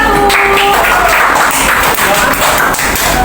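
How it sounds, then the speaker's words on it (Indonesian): Classroom applause for a student group, with a brief burst of many hands clapping close by and a voice speaking over it. "boleh kasih tepuk tangannya untuk kelompok 1"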